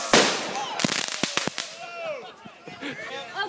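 Fireworks strapped to a modified toy car race crack off in a sharp burst of several loud pops, followed by fizzing, whistling sparks trailing off; a voice speaks briefly between the bangs.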